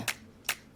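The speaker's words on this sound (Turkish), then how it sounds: "Sana alkış yok anca finger snap." Two sharp, crisp finger snaps about half a second apart, close and dry, with no voices.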